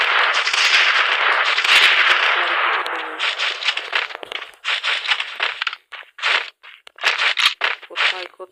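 Sniper rifle fire in a video game: a dense stretch of sharp, loud shots, then separate bursts and single cracks with gaps between them. A voice is heard alongside.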